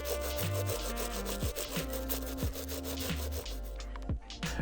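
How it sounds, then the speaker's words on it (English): Stiff bristle brush scrubbing a trashed shoe's outsole: continuous close rubbing and scraping strokes, loud and steady, with repeated back-and-forth motion. "I did about as much damage as I could do on that outsole there with the stiff bristle brush"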